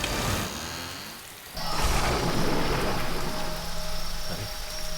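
Steady rain pours down outside a house at night, a dense broadband wash that swells louder partway through and keeps going, with a low rumble underneath and no talk.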